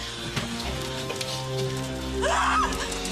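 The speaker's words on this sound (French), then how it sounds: "C'est la pluie. Il pleut sur le vaisseau." Cartoon effect of rain falling on a spaceship, a soft patter with a brief brighter splash burst near the end, over low hum and faint tonal background.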